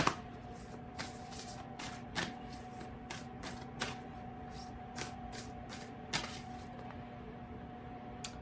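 Oracle cards from the Lantern Oracle deck being shuffled, with repeated soft riffling bursts and sharper card snaps spaced every second or so over a steady low hum, close and fairly quiet.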